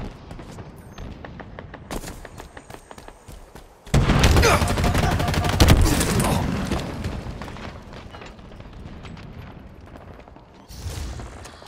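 Gunfire in the Halo Infinite video game, with scattered single shots that break into a loud, dense burst of rapid automatic fire and booms, then taper off before another short volley.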